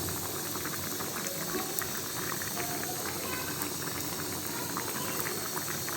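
A curry of shing fish and potatoes simmers in a pot, giving a steady, dense bubbling and sizzling that holds level throughout, close by and alone with no talk.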